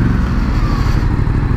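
Ducati Multistrada 1200 Enduro motorcycle cruising with a steady, smooth engine drone and road rumble, loud and continuous throughout with no voices.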